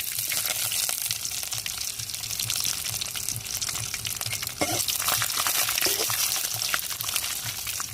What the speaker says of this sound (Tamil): என்ன சூடாயிருச்சுன்னா கடுகு உளுந்து போட்டுக்கிறோம் கருவேப்பிலை போட்டுக்கிறோம் இன்னும் வத்தலையும் சேர்த்துக்கிறோங்க